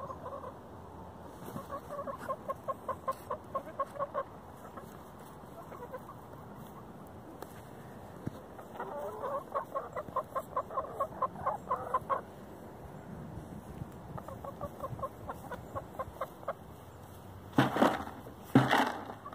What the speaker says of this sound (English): So the chickens see the fur on my legs